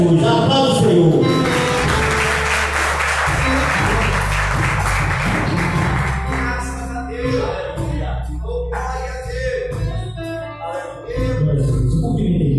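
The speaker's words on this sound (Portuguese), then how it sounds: "Aplauda o Senhor." A church congregation at a Sunday service applauds, loud sustained clapping with music or voices underneath, thinning out toward the end before another swell.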